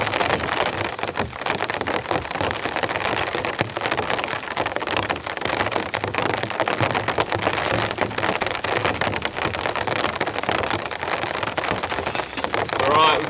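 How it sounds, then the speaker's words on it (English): Heavy rain pours at a tent campsite, a dense, constant hiss of drops drumming on surfaces close around, loud and unbroken throughout. "The rain's coming in, guys."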